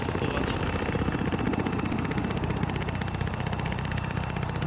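A helicopter in the video game Arma 3 drones steadily close by, its rotor chopping in a fast, even pulse over a loud engine roar that never lets up.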